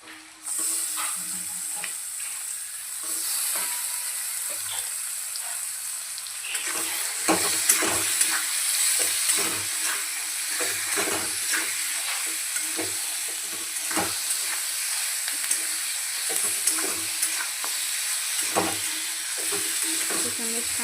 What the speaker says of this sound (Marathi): चिकनमधलं पूर्ण पाणी संपेपर्यंत आपल्याला हे असं परतून द्यायचं